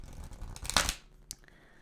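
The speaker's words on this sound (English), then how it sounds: "I'm going to start shuffling now." Tarot cards being shuffled by hand: a dense, papery riffle-and-rustle burst in the middle, a brief tap afterward, and quiet surroundings with no talk.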